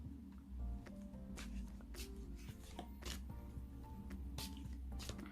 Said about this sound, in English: So let's get the pack now and give it a shuffle.